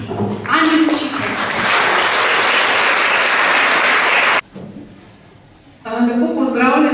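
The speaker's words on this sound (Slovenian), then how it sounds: "Zaploskamo gospe ravnateljici, Ani Mučitelj" A school audience at the opening ceremony for new classrooms and a renovated kitchen gives the headmistress loud, sustained applause for about four seconds. It cuts off sharply, and after a short lull a voice begins speaking.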